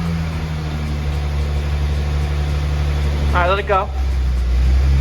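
A BMW E30 engine idles steadily with a low mechanical hum, its speed held as the idle control valve kicks in under load, while someone speaks briefly over it near the middle.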